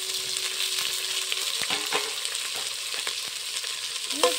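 Chopped onion and green chili fry in hot oil with a steady broadband sizzle, punctuated by a few soft stirring clicks and scrapes, close and alone with no talk.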